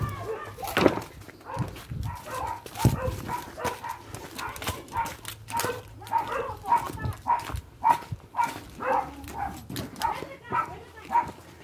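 Dogs bark in short scattered bursts, some yips among them, after an ocelot attacks them, mixed with people talking nearby and some background clatter.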